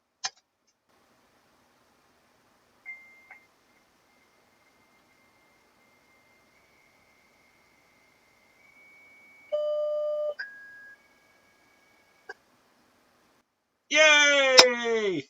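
A modem in a Wyse WinTerm thin client answers with a short run of steady tones and a shrill rising handshake burst at the end, separated by clicks and long silences.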